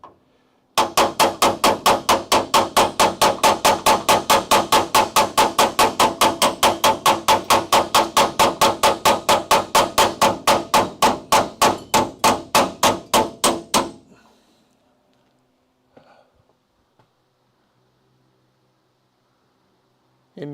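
Rapid, steady hammer blows on a metal frame rail end held against a handheld anvil, dozens of loud ringing strikes in even rhythm for about thirteen seconds, then stopping, followed by a few faint knocks.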